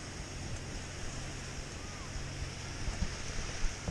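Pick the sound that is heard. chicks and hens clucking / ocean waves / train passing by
ocean waves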